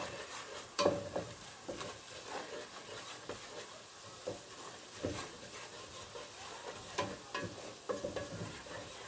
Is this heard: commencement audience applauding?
no